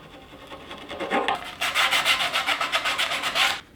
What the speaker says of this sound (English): We use a pipe cutter for this.